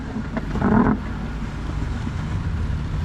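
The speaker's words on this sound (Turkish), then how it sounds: "bu motor sesi beni bayılttı artık." Loud engine drone from a boat, swelling briefly then settling into a steady rumble with wind buffeting the microphone.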